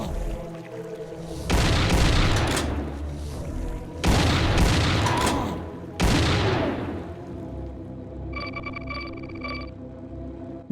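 Enemy gunfire in the Doom 2 total conversion Shrine, three loud booming bursts a couple of seconds apart, each decaying into rumble, followed by a brief electronic tonal chirping.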